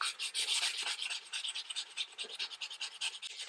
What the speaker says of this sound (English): So I'm just using the 220 sandpaper, and then I just give it a nice sand.